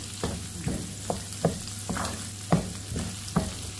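Sayote with shrimp sautés in olive oil in an old pan, giving a soft continuous sizzle with regular spoon scrapes and taps every half second or so as the food is tossed.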